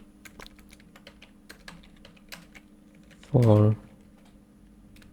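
Fingers tap quickly on a computer keyboard in light, irregular clicks over a low background hum, with a short spoken word cutting in briefly near the end.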